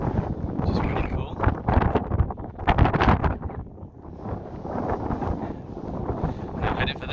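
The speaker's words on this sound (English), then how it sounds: "Oh, it's windy." Strong gusts of wind buffet the microphone on an exposed hilltop walk at Higger Tor in the Peak District, loud rumbling blasts that rise and fall, with brief speech mixed in.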